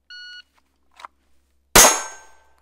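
A shot timer's short electronic beep, a faint click, then a single sharp pistol shot from a concealed-carry draw out of an outside-the-waistband holster, loud and close with a quick decaying ring.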